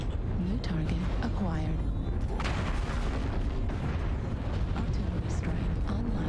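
Heavy booming mech weapon shots and explosions from the game Mechwarrior Online roll through dense, continuous in-game rumble and noise, loud and full, while someone talks over the action.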